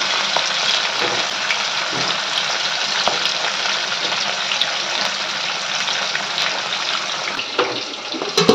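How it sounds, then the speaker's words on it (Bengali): Fish fries in a pan in a home kitchen, a steady dense sizzle and crackle that stays loud and close from start to finish, with no talk. "আবার বসিয়ে দিয়েছি মাছ ভাজা"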